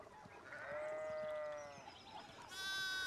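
Sheep in the video game Pentiment bleat, a drawn-out wavering call followed by a second, sharper bleat, heard clearly over quiet game ambience.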